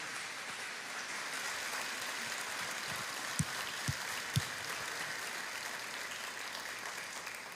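A church congregation applauds during a sermon, dense continuous clapping like a rain-like wash filling the room, steady throughout with a few sharper thumps partway through.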